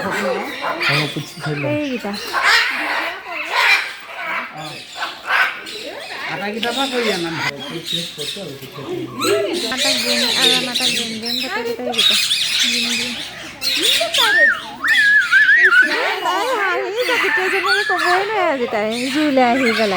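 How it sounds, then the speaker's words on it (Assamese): Parrots at Bannerghatta National Park squawk and call in repeated shrill bursts, loud and close. Steady talk from nearby visitors runs over the birds almost all the way through. "ইমান মাতি আছে ভাটৌকেইটা"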